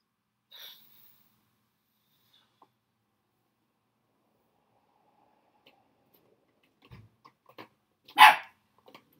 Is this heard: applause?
no